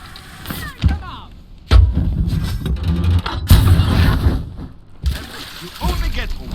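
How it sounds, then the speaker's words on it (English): Cannon fire in the Sea of Thieves game, several heavy booms at uneven intervals mixed with splashy bursts and noise, loud and close, with voices speaking over parts of it. "Get to the cannon."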